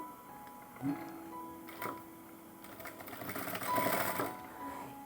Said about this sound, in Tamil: நான் இப்போ மிஷின்லேயே நான் தைக்கிறேன்.